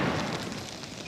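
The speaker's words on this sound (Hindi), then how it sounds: "वाह, बहुत बड़ा धमाका था।" A large blast from an anti-tank weapon test firing at a secret countryside location in Britain, a loud, sustained roaring rumble that fills the whole second without any break.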